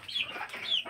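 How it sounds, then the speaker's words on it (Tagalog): A hen clucks close by on a rural Filipino farm in two quick rising calls within a second, with nobody talking. "Nanay manok, nanay iplog oh."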